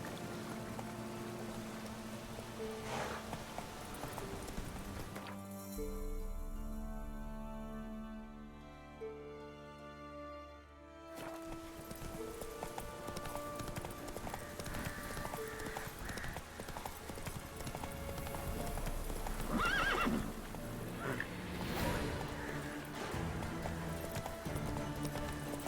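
Horse hooves clip-clop steadily in The Witcher 3: Wild Hunt, with a brief whinny and tonal in-game music running beneath the footfalls.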